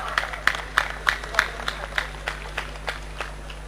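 Audience applause at a university convocation ceremony, heard as a short run of sharp, evenly spaced claps that ring in a large hall over a steady low hum, fading slightly toward the end.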